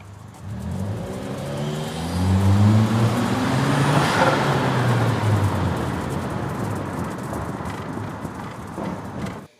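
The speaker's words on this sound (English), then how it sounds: "see if I can give you guys a little bit of turbo noise, little intake noise." Lexus NX200t engine revving up and easing off, a rising whine over rough intake noise and turbo whoosh, loud and close, tapering at the end.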